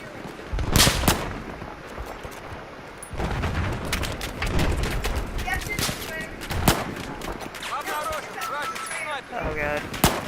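Video game gunfire, sharp sniper-style shots and bursts cracking out irregularly, some loud and close, mixed with other game noise while someone talks over the action.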